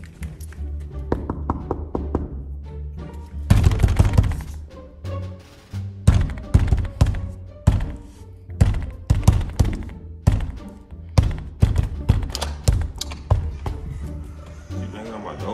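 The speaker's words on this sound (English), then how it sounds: "You banged on my door like that." Knocking and banging on a house door during a prank: a run of loud, irregular thumps and taps, some in quick bursts, close by, with people talking over them at times.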